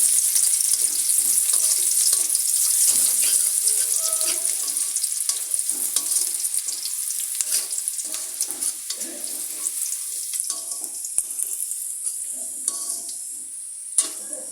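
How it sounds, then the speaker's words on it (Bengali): Steady, bright sizzling of onions frying in hot oil, close up and continuous, with occasional stirring clicks and pops, easing slightly toward the end. "পেঁয়াজটা একটু ভালো মতো ভেজে নেই।"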